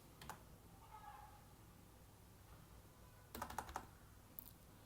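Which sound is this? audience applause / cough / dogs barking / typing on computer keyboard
typing on computer keyboard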